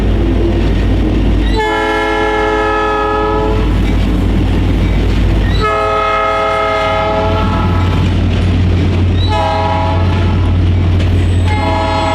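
Iowa Pacific's Hoosier State passenger train, operated jointly with Amtrak, passing close and loud with a constant rumble of wheels while its horn sounds three long blasts.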